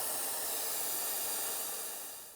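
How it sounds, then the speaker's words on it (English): Air rushes out of a tire through a screw-on deflator in a steady, loud, continuous hiss that eases off slightly at the end. "Now it's going to deflate the tire."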